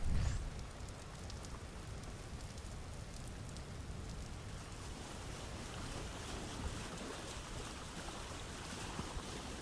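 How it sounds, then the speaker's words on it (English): Rain falls steadily in the Vintage Story survival game as dusk sets in, a soft, continuous hiss that stays even throughout and never breaks, with no talking. "And it's raining."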